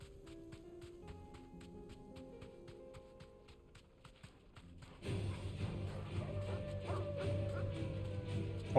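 Dogs at a bandit camp bark in the Final Fantasy 16 video game, with sharp barks and yips over background music and ambient game sound that grows louder partway through.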